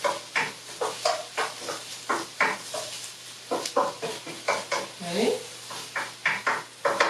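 Onions frying in oil in a pan for an African dish, stirred with repeated scraping strokes in a steady rhythm over a soft sizzle, close and moderately quiet, with a brief spoken word.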